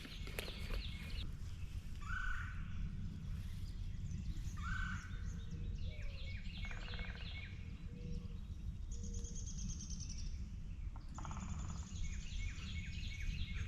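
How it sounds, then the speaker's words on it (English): In a forest, a Carolina wren, red-bellied and downy woodpeckers and a mourning dove call over a steady low rushing background, with repeated bright chirping phrases and faint distant calls. "Carolina wren, red-tailed, red-bellied woodpecker, mourning dove, downy woodpecker."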